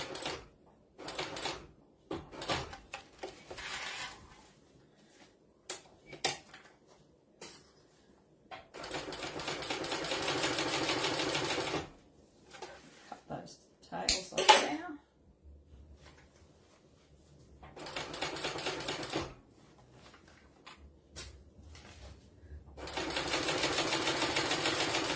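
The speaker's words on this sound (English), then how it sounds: "So this is where I'm sewing my 3/8 of an inch." A sewing machine stitches a 3/8 inch seam in several bursts of fast steady whirring, separated by pauses filled with clicks, handling noises and fabric shuffling.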